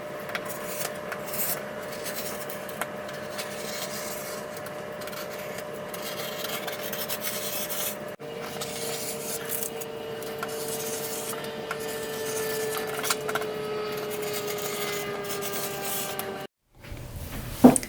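Scissors or a cutter work steadily through fabric pieces for a sewn costume robe, a long run of soft close scraping and rubbing with faint tonal squeaks, ending in a brief silence and a couple of sharp clicks.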